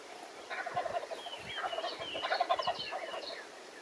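Wild turkey toms gobble repeatedly from a distance at their roost in pine trees, their rattling calls overlapping in bursts over a quiet outdoor background.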